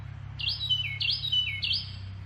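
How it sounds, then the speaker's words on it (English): A pet bird lets out three loud, bright chirping bursts close by indoors, each a quick rising-and-falling trill spaced about half a second apart, with a low steady hum underneath. "there's my loud bird right there"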